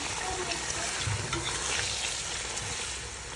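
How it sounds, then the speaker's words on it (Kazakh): Meat and onions for plov sizzle and fry in a pan while being stirred, a dense steady crackle with scraping movements throughout, close and without talk. "Пісіп болған етке жуамды қосамын. Жақсылап тұрып араластырамыз."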